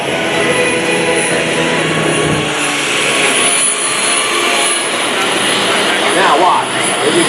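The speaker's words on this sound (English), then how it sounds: "as he takes the aircraft up to the top, now he's going to see a maneuver that you'll probably never see, another turbine aircraft do" Turbine jet aircraft flying low and flat at an airshow, a loud continuous roar filling the whole stretch with a broad rushing wash and a rising swell near the end, with a commentator talking over it.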